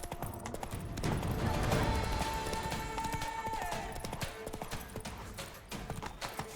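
A horse galloping in The Witcher 3 game: steady, fairly close clip-clop hoofbeats in a quick rhythm over a dense background of game sound and music.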